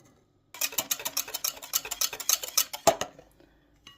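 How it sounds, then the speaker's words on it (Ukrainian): Eggs being whisked with sugar and salt in a bowl for thin crepe batter, a fast run of bright clinking taps of a whisk or fork against the bowl, close and steady for about two and a half seconds, with no talking. "Яйця змішуємо із цукром та сіллю."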